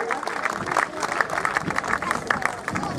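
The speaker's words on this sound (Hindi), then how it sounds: "तो मैं चाहूंगा कि जोरदार ताली स्वागत करें सभी का" A seated audience at a forest ceremony in Burhanpur, Madhya Pradesh, claps in welcome, a dense, steady patter of many hands with crowd murmur underneath.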